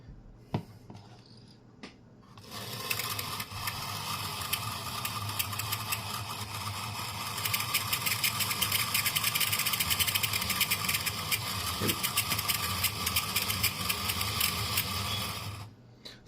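A serviced Lima pancake motor whirs into a steady, fairly loud mechanical hum after a couple of seconds of faint clicks, running continuously with a fine buzzing texture until it cuts off near the end.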